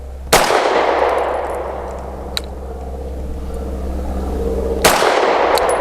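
Sig M17 X Change pistol firing at an outdoor range, with two sharp, loud gunshots several seconds apart, each followed by a ringing echo over a low steady background hum.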